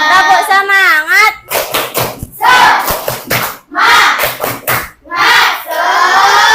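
Children in a classroom perform a clapping chant, bursts of rhythmic group clapping alternating with loud chanted voices, close and energetic, starting from a sung, wavering call before the claps break in.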